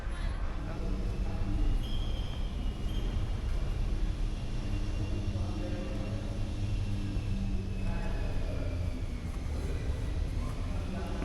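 A Melbourne tram runs from St Kilda toward the city, its steady low rumble and rolling rail noise filling the ride from start to finish with no breaks.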